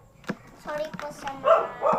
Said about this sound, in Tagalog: maingay po kasi yung mga aso po namin dito kasi marami pong bisita